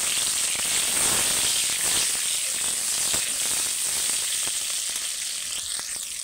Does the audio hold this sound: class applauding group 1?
no